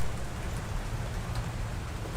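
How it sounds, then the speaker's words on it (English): Rain falls outside in a steady, even hiss with a low rumbling undertone, continuous throughout with no voices. "No, it's raining."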